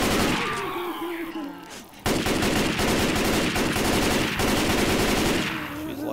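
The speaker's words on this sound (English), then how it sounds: "Shoot that freaking witch again." Survivors in Left 4 Dead 2's The Parish campaign pour gunfire into the Witch: after a short lull, loud, rapid automatic fire rattles steadily without a break until near the end.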